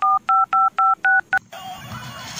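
Six short, evenly spaced telephone keypad tones beep in a quick rhythm as a phone number is dialed to call a friend, followed by a faint hiss and low background noise.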